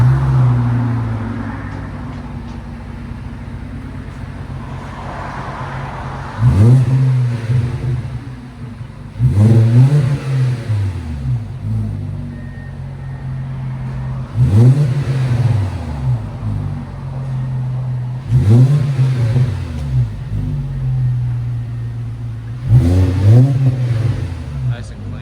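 A 2011 VW Jetta 2.5L SE inline-five with an AWE cat-back exhaust idles steadily, then is revved five times in evenly spaced bursts, each rising sharply and falling back to a low, droning idle, close and loud.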